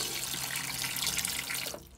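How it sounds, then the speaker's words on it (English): Water runs from the tap into a small drop-down sink in a motorhome bathroom, giving a steady, close splashing hiss that cuts off near the end. "We have drop down sink. And that again, hot and cold running water."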